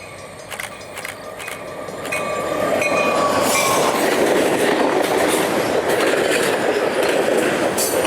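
A train rumbles past on the rails, growing louder after a couple of seconds and staying close with a steady clatter and faint wheel squeal.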